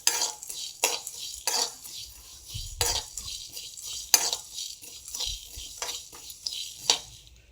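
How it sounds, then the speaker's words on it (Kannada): Fenugreek, black pepper and coriander seeds dry roast in a pan while being stirred, giving irregular scraping sweeps and bright rattles of seeds against the metal, close and fairly quiet. "ಎಲ್ಲನೂ ಡ್ರೈ ರೋಸ್ಟೇ ಮಾಡಬೇಕು ಫ್ರೆಂಡ್ಸ್"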